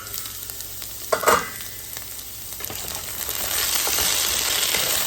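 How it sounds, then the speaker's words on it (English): Potatoes and onion sizzle steadily in a skillet while a spatula stirs through them, with a sharp scrape near the start and the frying hiss growing louder toward the end. "I'm just mixing up the potatoes in here."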